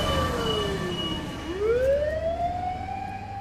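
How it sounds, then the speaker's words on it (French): A fire engine siren sweeps past in Japan, its wailing tone dropping low and then rising again over steady traffic rumble, loud and close throughout. "C'était les pompiers, pas de panique."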